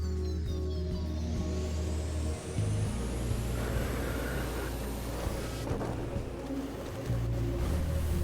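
RC model car with CV joints accelerating, with an electric motor whine rising steadily in pitch over rolling rumble, a brief dropout, then harsh clattering and rattling as the car breaks apart, close and loud.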